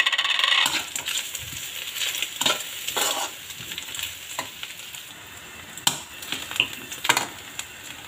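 Chinese sausage fries in a pan with a steady sizzle, joined by scattered metallic clinks and scraping stirs of a utensil against the pan, close and fairly quiet, with no talking.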